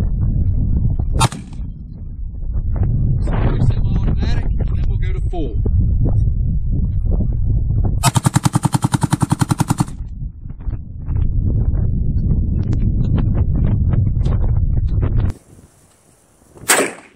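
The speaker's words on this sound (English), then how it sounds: "We'll start out with a semi-automatic round, and then we'll go to full automatic round so you can see the full operation of the weapon." An H&K G3 7.62x51 machine gun fires at a public auction in Parsonsburg, Maryland: loud single semi-automatic shots come first, then a sharp rapid full-automatic burst of about two seconds. People talk throughout.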